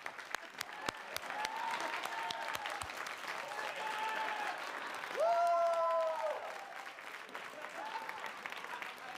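A comedy club audience claps steadily for the host's entrance, a full even spread of applause with a few sharp claps early and cheering voices rising in the middle.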